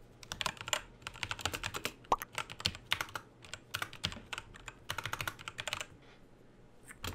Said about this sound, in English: I was in the middle of typing.